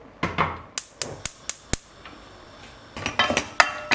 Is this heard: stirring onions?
yes